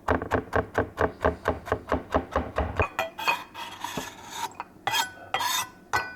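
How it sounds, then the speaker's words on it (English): A knife chops ginger finely on a board in quick, even, close strokes, about a dozen in a steady rhythm. The blade then scrapes and rasps across the board, with scattered knocks and rustles. "Just a moderate amount of ginger there. We'll just chop that up nice and fine."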